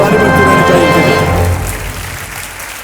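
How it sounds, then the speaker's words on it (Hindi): Studio audience applause on a Hindi quiz game show, dense loud clapping that starts at full strength and fades over a few seconds. "ताली बजती रहनी चाहिए इनके लिए।"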